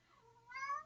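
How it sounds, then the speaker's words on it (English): A pet cat gives one short, rising meow, close but faint, alone against a quiet background. "my kitty meowing like this means he want to go on the hunt"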